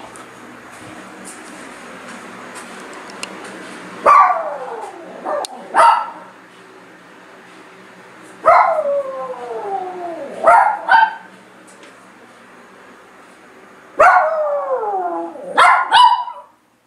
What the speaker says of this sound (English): Why are you howling when I walk away from you?